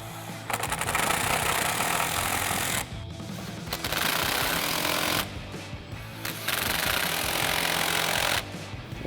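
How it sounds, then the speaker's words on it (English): Impact wrench with an 8mm socket tightening hose clamps on a cold air intake installed on a GMC Sierra 1500, giving loud, close, sustained hammering bursts in three long runs separated by short pauses. "we'll go ahead and tighten down all of our hose clamps with our 8mm socket on our impact"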